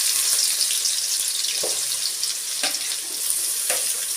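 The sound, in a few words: pounded onions frying in hot groundnut oil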